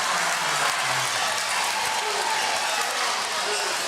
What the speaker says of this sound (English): That'll get the crowd going.